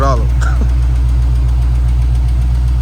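A box Chevy on 26-inch wheels, due for an oil change, idles with a loud steady low rumble and a faint light tap in the engine, with a short burst of speech at the start.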